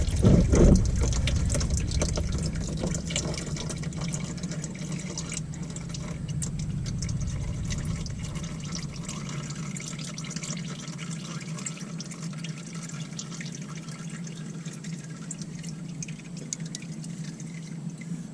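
Engine oil drains from a Dodge Grand Caravan 3.8 into a drain pan, a steady pouring trickle that starts heavier and thins into a softer, continuous stream with faint drips, no voices.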